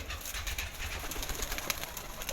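Pigeons coo softly on a rooftop, with low, faint calls under steady background noise.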